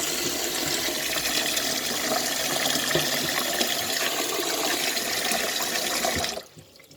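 Water gushes and splashes steadily into a container of beans for soaking for several seconds, then stops abruptly near the end.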